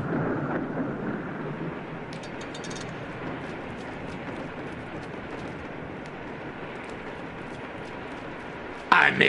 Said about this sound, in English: I made it rain!